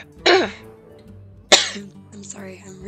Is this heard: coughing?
yes